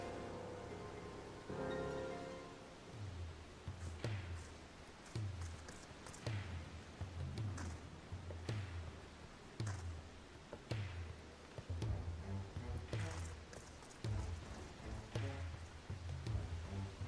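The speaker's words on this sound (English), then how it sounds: "This damn rain." Steady rain falling in the video game Final Fantasy XIV, a continuous wash of drops with a repeating low rhythmic pulse of game music and sound effects underneath.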